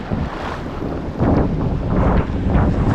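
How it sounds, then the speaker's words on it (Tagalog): Strong wind buffets the microphone in loud, roaring gusts at a fishing shore in the Philippines, with the broad wash of surf beneath it and no voices. "Lumakas din kasi yung hangin."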